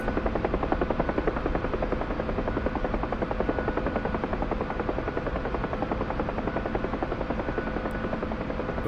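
A helicopter flies at about 110 knots while bleeding off airspeed, its rotor beating fast and evenly under a constant, close engine drone throughout.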